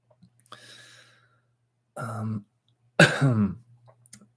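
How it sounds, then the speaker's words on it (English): A person clears their throat and then coughs twice, short and close, in an otherwise quiet room. "Now I'm going to cough."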